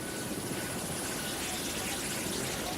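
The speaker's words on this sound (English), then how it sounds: "a conflict dominated by the helicopter gunship" A helicopter gunship flies overhead with a steady, loud rotor and engine roar that holds evenly throughout without a break.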